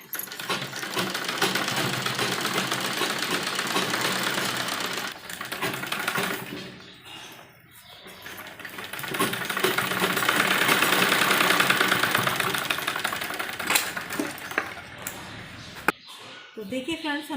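A sewing machine stitches a net blouse for an embroidered lehenga with a rapid, continuous mechanical clatter that briefly stops around the middle before resuming, while a voice talks over it.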